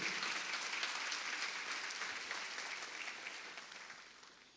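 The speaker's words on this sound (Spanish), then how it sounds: "Si vas a aplaudir, hacelo fuerte, fuerte" Conference audience applauding, dense sustained clapping from a sizeable crowd that slowly fades, with no one speaking over it.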